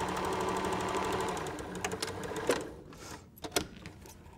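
A sewing machine runs a steady whirring stitch across a folded tote bag for about two seconds, then slows and stops, followed by a few sharp clicks and clunks of the machine, close up.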